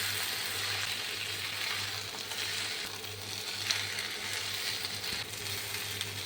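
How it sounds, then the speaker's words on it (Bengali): Rice with moong and masoor lentils frying in a pot over a low-fuel flame, a steady broad sizzle with faint stirring scrapes, close and continuous without any voices. "সামান্য একটু নাড়াচাড়া করে নিচ্ছি।"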